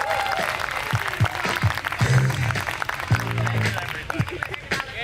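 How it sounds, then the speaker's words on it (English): A comedy-club audience applauds comedian Zoltan Kaszas, a steady wash of clapping and cheers beneath someone talking loudly into a microphone over it. "Clap it up for Zoltan, you guys."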